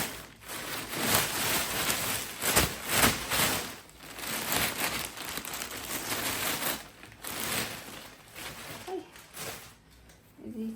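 A heavy plastic bag of hand-me-down baby clothes being unpacked, full of smaller bags; loud, close, continuous crinkling and rustling of plastic that swells and fades in waves, with no talking.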